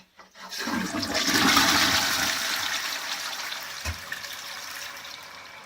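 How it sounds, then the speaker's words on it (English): A ventilated self-cleaning toilet flushes with a loud rushing surge of water that gradually settles into steady flowing and trickling as the bowl refills, heard alone and close by. "when we flush the toilet"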